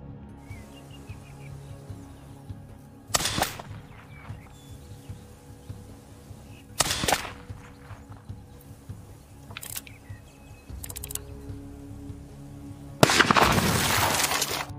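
A rifle fired in a forest at a watermelon hung up as a target, in a film scene: several sharp, loud reports spaced a few seconds apart, with the last blast longer and rougher, over quiet ambience.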